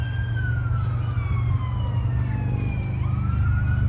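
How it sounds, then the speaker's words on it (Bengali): A wailing emergency siren sweeps up and down continuously over loud, steady traffic rumble, fairly close and persistent throughout. "অ্যাম্বুলেন্সের আওয়াজ শুনলেই ভয় লাগে"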